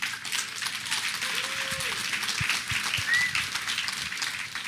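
An audience claps steadily at a live talk, a continuous mid-level patter of many hands, with a few faint voices and brief tones mixed in underneath.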